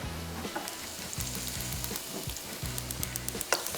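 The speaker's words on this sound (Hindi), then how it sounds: "ये हमने इसको थोड़ा सा फ्राई किया, हल्का सा ब्राउन नहीं करना है, हल्का सा सॉफ्ट हो जाए" Vegetables softening in oil for a batch of pizza sauce, a light sizzle close by broken by repeated rhythmic scraping strokes of a spoon against the pan, no talking.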